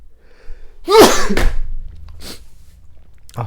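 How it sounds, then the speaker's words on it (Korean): One sharp, close sneeze bursts out abruptly, followed by a couple of softer breathy sounds in an otherwise quiet room. "갑자기 재채기 나왔네요."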